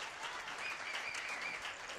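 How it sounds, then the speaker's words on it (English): Audience applause at a live comedy charity event in a Texas restaurant, a faint, steady patter of many hands clapping throughout. "Please, another round of applause for Mr. Nick, the owner, proprietor of Taste of Texas"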